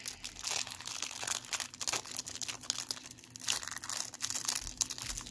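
A 1991 Soccer Shots card pack wrapper is torn and crinkled open up close, with steady crackling and rustling of foil-like packaging over about five seconds and no talk.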